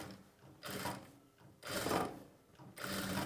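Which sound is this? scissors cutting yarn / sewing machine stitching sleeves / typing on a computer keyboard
sewing machine stitching sleeves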